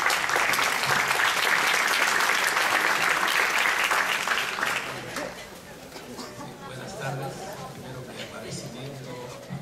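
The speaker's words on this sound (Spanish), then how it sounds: "Un aplauso, por favor." An audience at a physics lecture on molecular spin-transition compounds applauds the speaker: loud, dense clapping for about five seconds that then thins out into scattered claps and murmuring chatter.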